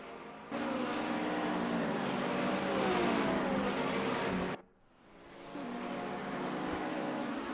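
GT4 race cars, a Porsche and a Ferrari, roar around Laguna Seca, their engines droning steadily at high revs and rising in pitch before dropping away sharply, then returning, with commentary running underneath.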